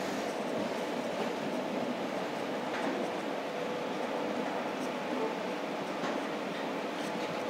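Narsapur-Guntur Express electric train running between Palakollu and Bhimavaram Junction, a steady continuous rumble of the moving rail cars from on board, with faint voices under the noise.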